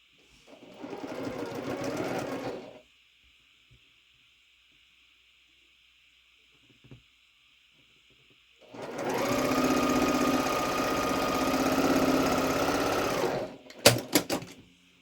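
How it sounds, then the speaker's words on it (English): A sewing machine stitches two quilt block units together for a star quilt, running in two steady whirring bursts of a few seconds each with a quiet pause between, then ending in a few sharp clicks. "So now we just need to sew these 2 together, and then we'll give this little unit a press."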